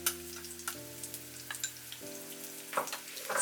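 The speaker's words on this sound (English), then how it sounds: "When the oil is hot, add the shallots." Shallots fry in hot vegetable oil in a pan over medium heat, giving a soft, continuous sizzle with scattered crackles and pops, fairly quiet and with no talking.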